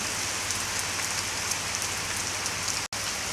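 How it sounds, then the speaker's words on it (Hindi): Heavy rain pouring down outdoors in a dense, constant hiss of drops hitting surfaces, loud and unbroken apart from one brief cut near the end. "देखो कितनी तेज़ बारिश हो रही है"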